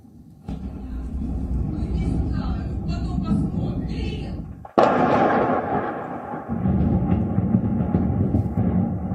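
Heavy bomb blasts and artillery fire during the war in Kharkiv, Ukraine, a continuous loud roar with a sharp burst partway through, a voice talking over it.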